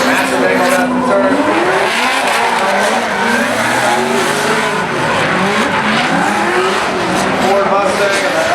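Drift cars, a Toyota Corolla, a Ford Mustang and a Nissan 240 S14, slide through a corner with loud, sustained tire squeal and wavering engine revs, an announcer talking over the action.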